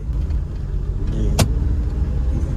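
A Suzuki Mehran driving with steady low engine and road rumble throughout, and one brief sharp click partway through, likely the gear lever shifting into second; no talk.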